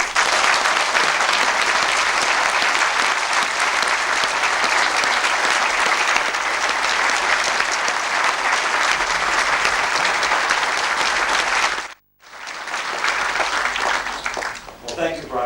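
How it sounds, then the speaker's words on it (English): Loud, sustained crowd applause at the opening of the new Wairarapa Hospital, dense continuous clapping that cuts off abruptly, then a second shorter burst of clapping resumes. "Please give the Wairarapa a clap."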